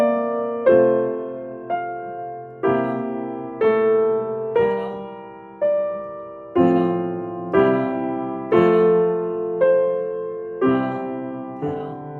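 A piano plays measure 20 of Schumann's Träumerei, Op. 15, No. 7, with the pedal changed on every eighth note, giving a gentle, flowing series of chords with soft repeated attacks, close and clear, with no talking.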